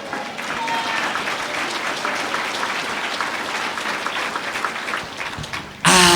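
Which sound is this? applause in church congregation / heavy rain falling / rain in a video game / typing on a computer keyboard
applause in church congregation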